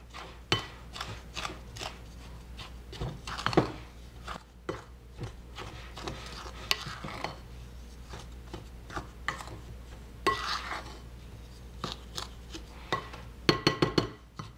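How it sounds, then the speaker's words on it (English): Dry muffin ingredients — flour, sugar, baking powder, cinnamon and a pinch of salt — being blended in a bowl, with soft scraping and rubbing and scattered light clinks of a utensil against the bowl throughout, no talking. "You want to make sure that you blend this really well."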